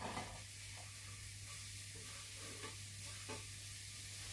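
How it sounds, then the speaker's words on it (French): Leeks sizzling in melted butter in a saucepan, a steady faint hiss of frying with soft stirring scrapes now and then, close by with no voices. "Dans mon beurre fondu, j'ajoute mes poireaux."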